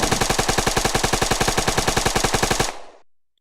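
An assault rifle in the video game Weapon Master empties its magazine in rapid full-auto fire, a loud, evenly spaced stream of about thirty shots that stops abruptly and leaves a short fading echo.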